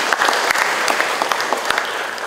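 Loud, dense audience applause at a Jakarta governor's public launch event, a sustained wash of many hands clapping with distinct sharp claps poking through, continuing throughout.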